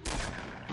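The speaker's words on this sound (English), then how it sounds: "Oh, Fabio, we got more gunshots." Burst of video game gunfire, a dense, continuous crackle of shots filling the whole short moment at close range, with no talk over it.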